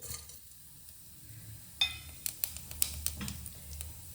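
Oil crackles and sizzles quietly in a pan as cinnamon, black pepper and fennel seeds fry, with scattered sharp pops and small clicks starting partway through.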